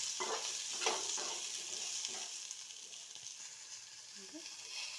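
Vegetables fry with a steady sizzle and hiss in a pan while a spoon stirs them in a few scraping strokes, close and moderately loud, with no talking.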